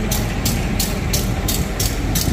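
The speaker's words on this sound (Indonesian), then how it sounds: "Jadi ini kereta api Jayakarta." A long Jayakarta passenger train standing at Surabaya Pasar Turi station, its engine holding a steady low rumble and hum, with a regular pulsing hiss repeating about every third of a second throughout, nearby and fairly loud.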